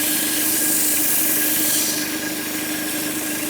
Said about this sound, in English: grab the outsides of our sandpaper, continuing to sand, and you can see the sanding coming off there